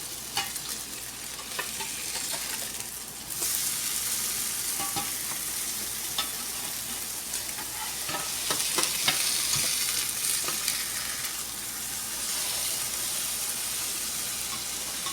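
Whole wheat bread slices for French toast sizzle in oil in a pan over a low flame, with a steady crackling fry and occasional stirring or scraping sounds.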